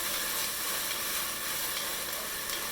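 Shrimp and peppers fry in a pan for a salt and pepper shrimp dish, giving a steady, dense sizzle with faint stirring scrapes, close and even throughout, with no voices.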